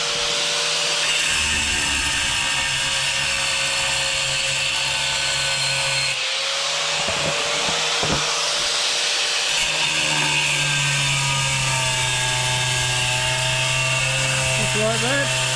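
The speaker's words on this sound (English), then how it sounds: "You just keep going round and round with your grinder." An angle grinder cuts a round hole in tile, whining loudly and continuously with shifting pitch as it works around the circle, while a person talks over it.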